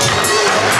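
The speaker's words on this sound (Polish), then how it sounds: "Wielkie brawa!" Crowd noise at an amateur ski jumping league event in Ruczynów, a steady broadband roar of spectators clapping and cheering, loud and continuous throughout with no pauses.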